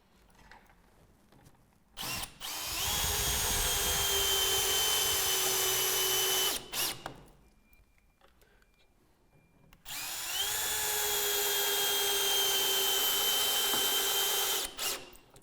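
A power drill drives screws through a Velux Integra electric roof window frame into structural roof timber, in two long loud whirring runs separated by a quiet pause, each starting with a short burst.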